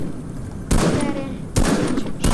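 Three loud bursts of machine gun fire from the blue KMK light machine gun in a game, each a sharp broadband burst with a short tail, spaced well apart.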